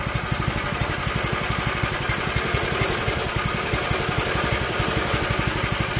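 A lawn tractor engine converted to run on propane for a go-kart fires up and settles into a fast, even idle, its rapid chugging pulses loud and close throughout with no talking.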